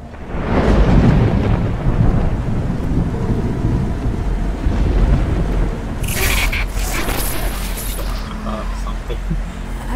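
Thunderstorm with rolling thunder and heavy rain, a loud continuous rumble and wash of wind that stays dense from start to finish.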